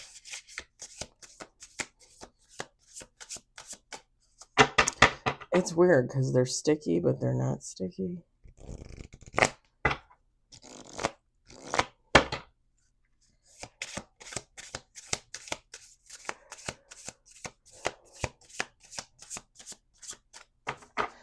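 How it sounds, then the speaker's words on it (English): Tarot cards are riffled and shuffled close up in quick crackling bursts, with a person talking between and over the shuffles. "let's do 2 more shuffles"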